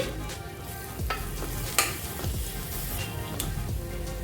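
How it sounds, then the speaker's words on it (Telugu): Boiled kabuli chickpeas with grated coconut and chopped coriander are stirred in a pan, a steady scraping and shuffling over a soft sizzle, with a few sharper clicks of the spoon against the pan. "ఒకసారి మిక్స్ చేసుకుంటే సరిపోతుందండి"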